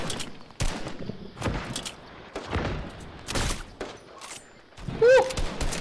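Bursts of gunfire in the battle royale game Fortnite: several separate sharp shots and short volleys spaced irregularly, with lighter in-game clatter and a brief whistling tone near the end.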